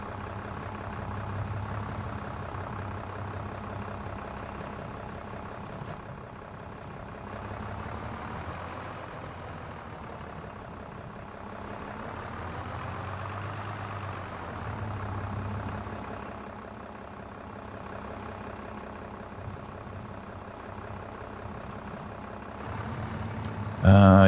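A farm vehicle engine in Farming Simulator 22, steady low rumbling throttle that swells and eases for over twenty seconds, heavy and constant, with a brief loud bump at the very end.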